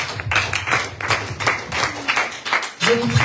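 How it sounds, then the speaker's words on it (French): Congregation clapping in a church service, uneven bursts of hand claps mixed with voices and low musical or vocal tones underneath, moderately loud and close. "Nous applaudissons pour la gloire de Dieu."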